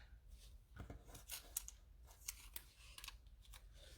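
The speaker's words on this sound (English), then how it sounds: "Now I'm going to cut this out." Scissors cut out a paper card piece, sounding as a quiet, close run of crisp snips and paper rustles in an irregular rhythm.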